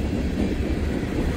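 Boxcars of a freight train rolling steadily past nearby, a continuous low rumble with faint clattering and no talk.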